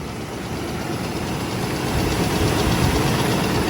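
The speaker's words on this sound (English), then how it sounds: "Just let it idle for a minute." A car engine idles with a possible fault, a steady, continuous low rumble that grows slightly louder over a few seconds, with no talking.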